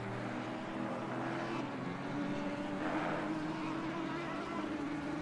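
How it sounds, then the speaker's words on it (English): Loud, steady engine drone of a GT3 race car circling the Misano circuit in a racing video game, a continuous high-revving roar with slight pitch swells as it powers through corners. "Very loud engine."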